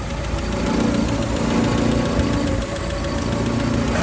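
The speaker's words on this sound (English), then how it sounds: "That noise you can hear is just the bonnet vibrating." A warm 1948 Land Rover Series 1 80-inch idles close by with a steady mechanical chatter, and its bonnet buzzes and rattles from the vibration. The sound is continuous and fairly loud, with no voices.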